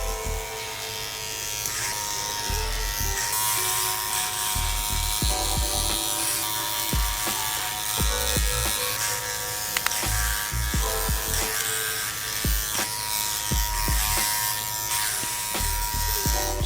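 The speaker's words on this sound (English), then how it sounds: "I'm gonna demonstrate how to trim and fade this beard with the number 3 guard" Electric hair clippers with a number 3 guard trim a curly beard in a barbershop, a loud, steady close-up buzz that runs throughout, its pitch shifting as the blades bite through the hair in repeated passes.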